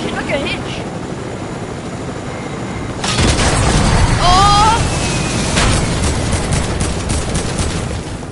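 A C4 explosion and gunfire in a Squads video game: a sudden loud broadband blast hits partway through and is followed by sustained, dense battle noise with sharp shots and a brief whistling tone, under occasional voice.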